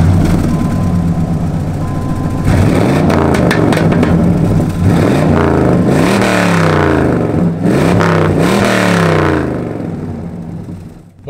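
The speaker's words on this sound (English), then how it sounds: "It's got dual exhaust with you know, Flowmaster mufflers on it." A car engine revs hard several times with a deep, throaty rumble through dual exhaust with Flowmaster mufflers, each blip rising and falling in pitch, loud and close.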